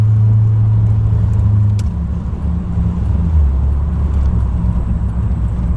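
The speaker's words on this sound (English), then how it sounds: "The exhaust just makes it sound like it's going fast." A ZR1 sports car exhaust heard from inside while driving, a loud, steady low drone with a brief dip and a shift in pitch midway, close and continuous.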